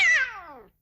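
A single cat meow, loud and close, starting high and sliding down in pitch before trailing off, with silence after.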